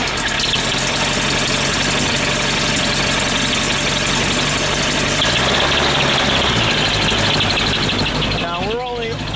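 A loud propeller aircraft engine idles steadily up close at about 1500 rpm, a constant rumbling drone with a slight shift in tone partway through.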